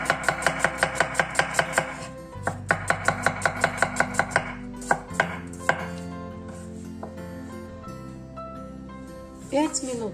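A knife slices sweet summer tomato into thin wedges for a salad, giving quick rhythmic taps on a cutting board in steady bursts, with a pause before a second run and a few scattered knocks after.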